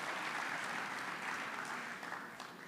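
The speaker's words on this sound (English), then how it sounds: "Let's give them a round of applause." An audience at an awards gala applauds the selection committee, a steady wash of many hands clapping at moderate distance that fades slightly toward the end.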